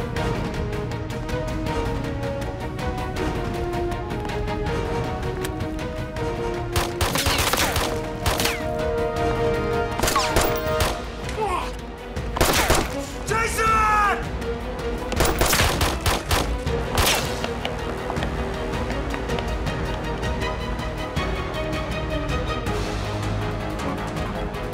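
Bursts of gunfire in a Filipino TV drama scene, loud sharp shots and rapid volleys spread over a tense music score, with no clear talk.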